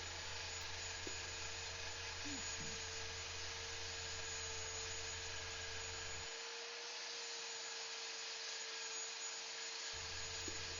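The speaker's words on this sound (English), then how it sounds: "I'm using the edge of the sanding disc to align with the grain of the wood" A steady, close sanding drone as a sanding disc works mulberry wood and epoxy, a continuous abrasive whir with a constant motor hum, briefly easing in the low end partway through.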